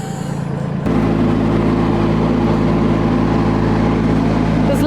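A front loader's engine roars loud and close, kicking in after a short quieter moment and then holding a steady, rumbling drone while the machine carries a rider over land being cleared of brush.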